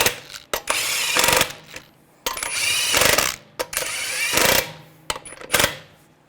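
Wheel lug nuts are run down on a 2013-2015 Chevrolet Malibu in several loud bursts of a whirring impact tool, each a few seconds long, separated by short pauses with metallic clicks.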